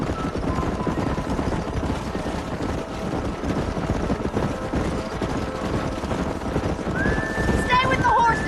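Hooves clatter continuously as horses gallop during a ranch round-up in Red Dead Redemption, with a whinny near the end and voices talking over them.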